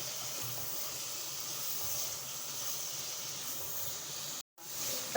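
Vegetables fry in a pan with a steady, close sizzle and hiss that holds level throughout and breaks off for a moment near the end.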